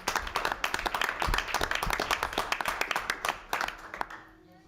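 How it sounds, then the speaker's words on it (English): A round of applause at a school board meeting: many hands clapping in a dense, steady patter from a room of people, fading out at the end. "I think that deserves a round of applause"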